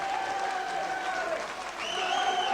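A crowd at a kickboxing fight claps and cheers steadily after the round ends, sustained applause with a few whistles rising near the end.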